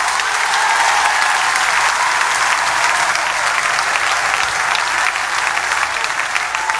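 Loud, sustained applause from a church congregation, dense clapping that fills the whole stretch evenly, with no pauses or talk over it.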